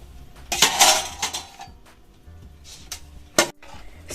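Metal lid clanking onto a pot of boiling potatoes on a home stove, a few sharp clinks and rattles close by, with quiet pauses between them.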